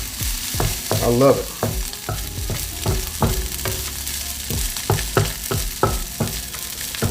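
Pork fried rice is stir-fried in a non-stick wok, with a steady sizzle beneath repeated sharp scraping and tossing strokes of the spatula at an uneven rhythm. Someone speaks a few words briefly.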